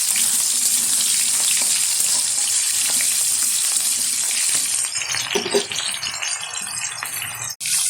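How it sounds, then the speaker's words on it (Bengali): Whole small onions for a country chicken curry sizzle and hiss steadily in a hot pan as they are stirred, with a few light scraping clatters near the end. "একটু নেড়ে চেড়ে নেবো পেঁয়াজটা।"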